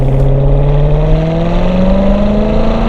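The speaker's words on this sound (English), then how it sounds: "So I rev it out a little bit, go get to 2nd." A Chevrolet Corvette C7 Z06 with a manual transmission revs up, its engine note rising steadily and loud from inside the car, with a deep continuous drone and no talking.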